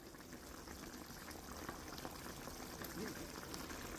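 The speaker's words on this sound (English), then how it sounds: "now it's boiling" A steady bubbling hiss of liquid at a rolling boil, close by and fairly quiet, with no break throughout.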